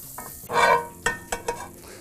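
Butter melting and sizzling in a thick-bottomed pot for rice pilaf, a close, steady frying hiss with a loud swell as it hits the heat, then a few sharp stirring scrapes against the pot.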